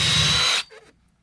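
A power drill bores through sheetrock in an old apartment building wall, whining loud and close for about half a second before cutting off. A brief faint rattle follows.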